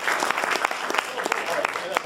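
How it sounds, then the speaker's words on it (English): Audience applause at a celebration event, fairly thin and scattered with individual claps standing out, steady across a short stretch with some voices mixed in. "give yourselves a round of applause for coming here"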